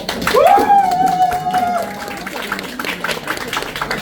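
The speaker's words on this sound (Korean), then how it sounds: "큰 박수 부탁드리겠습니다" Applause from a gathered crowd at the opening of a Seogwipo election campaign office, broad and steady clapping throughout with a voice speaking loudly over it at the start.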